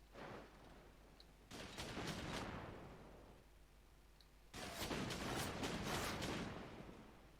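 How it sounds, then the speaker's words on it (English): A Yak-3 fighter fires its cannon in the IL-2 flight game in two long, loud bursts of fast rattling shots, with a short gap between them and engine drone underneath. "And fire that cannon."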